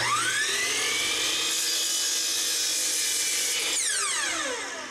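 A miter saw cuts wooden cabinet door pieces to length: the blade whines up to speed, holds a steady high-pitched cut, then winds down near the end, with no talking.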